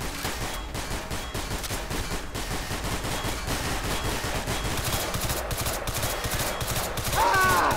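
Rapid gunfire in the video game Left 4 Dead 2 during a custom campaign with eight survivors, dense continuous bursts of shots layered with game effects, loud throughout, with voices calling out at the end.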